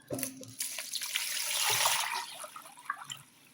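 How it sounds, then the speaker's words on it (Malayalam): Water pours steadily into a halwa mixture in a vessel for a couple of seconds, splashing and gurgling up close, with a few clinks before and after. "നല്ലോണം വെള്ളം ഒഴിക്കുക"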